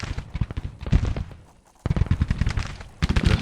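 Massed musket and rifle volleys from a Civil War battle in Grand Tactician rattle in dense, crackling bursts, loud and continuous, breaking off briefly into a lull before the firing resumes.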